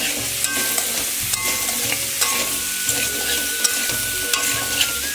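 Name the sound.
curry being stirred and sautéed in a pan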